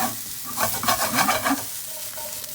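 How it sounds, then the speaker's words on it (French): Mushroom pieces sear in a hot frying pan, a brief close crackling sizzle with a few soft shifting sounds as they are turned. "On fait ça ainsi de suite sur toutes les faces des champignons."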